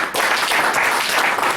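Applause from a church congregation fills the space, steady and dense for the whole moment, with a brief dip near the start.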